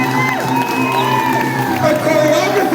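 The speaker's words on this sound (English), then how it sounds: "A round of applause for Paula Present," Audience at a live performance cheers, whoops and applauds in a dense, continuous wash of voices and clapping, with shouts rising above the crowd noise throughout.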